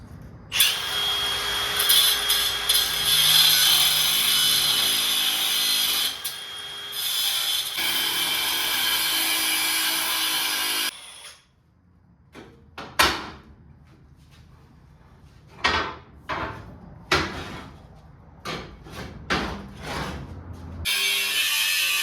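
A power tool cuts welds on the bed of a 1978 Ford F100, first a long continuous grinding whine, then a series of short, sharp bursts separated by pauses.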